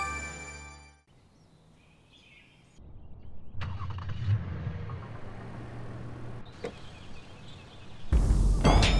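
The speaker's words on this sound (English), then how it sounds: "Did you start the car?" A car engine starts remotely amid faint outdoor ambience, with a soft thunk, then a steady low idle; a louder revving burst comes at the end.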